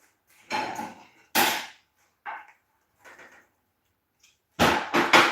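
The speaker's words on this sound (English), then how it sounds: "I'm going to get a block of wood and a ball peen hammer." A ball peen hammer strikes a block of wood in a shop during race car work: about seven sharp, close knocks in an irregular rhythm, spaced apart and then bunched into a quick final cluster.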